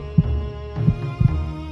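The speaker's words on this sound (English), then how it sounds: "the heart beat on with a muffled sound" Muffled heartbeat sound effect for a dramatic reading of a Poe horror story, three deep low thumps spaced unevenly over a soft continuous hum, with no voices.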